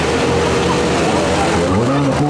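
Mini wedge race cars roar around Mount Pleasant Speedway in Michigan, a loud, dense engine drone with shifting pitch as the cars pass, under an announcer's commentary.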